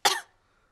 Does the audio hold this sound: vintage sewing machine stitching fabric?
no